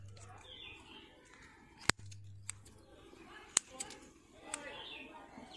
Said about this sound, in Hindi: पत्तियां पीली हो गई हैं तो इसको हम काट के निकाल देंगे